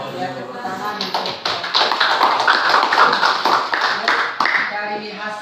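Classroom clapping from students, a dense patter of hand claps running for several seconds, fairly loud and close, with voices mixed in underneath.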